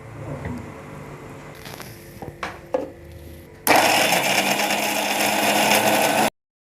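Mixie jar grinding almonds with milk, starting with a few quiet clicks and short bursts before a loud, steady motor roar that runs for about three seconds and stops abruptly.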